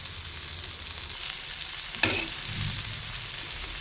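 Kaju chicken masala fries in a pan with a steady, close sizzle and a brief sharp scrape of a spatula midway, followed by lower stirring rumbles.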